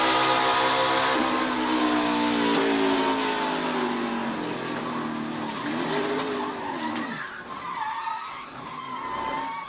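Onboard a NASCAR Xfinity Series race car, the engine drones loudly and close, with pitch shifting and dipping as it slows, while tires squeal and skid throughout.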